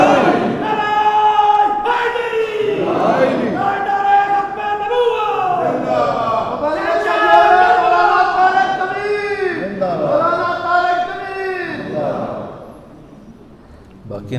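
Large crowd at a Muharram religious gathering chanting slogans in unison, loud call-and-response shouts with rising and falling voices filling most of the stretch before fading near the end.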